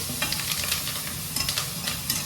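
Garlic and onion sizzle and crackle steadily in hot oil, with faint stirring scrapes in the pan, close up and continuous.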